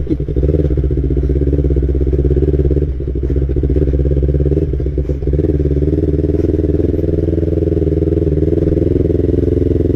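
Yamaha R25 motorcycle riding along a forest road in Karawang, its engine droning steadily and loud throughout with a few brief dips, no talk over it.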